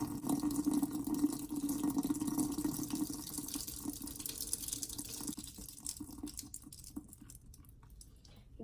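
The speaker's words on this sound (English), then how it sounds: "Then you just want to pour the water out, but leave the suds in there." Water from a container is poured out slowly, leaving soap suds behind, in a quiet indoor DIY painting setup; a soft, steady trickle and splash that fades toward the end.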